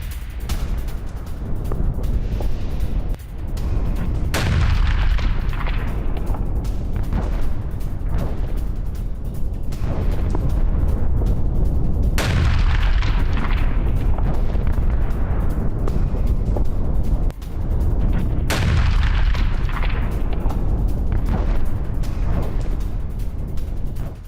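Heavy explosions from a Russian drone attack on a Ukrainian AS-90 artillery gun near Illinka rumble in deep repeated booms, each followed by a long roar and crackle, loud and dense without any speech.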